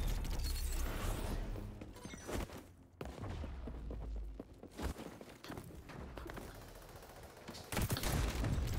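Shotgun and rapid gunfire in the shooter game XDefiant, bursts of sharp blasts mixed with mechanical clicks and footsteps, loud and close, with brief quieter gaps between volleys.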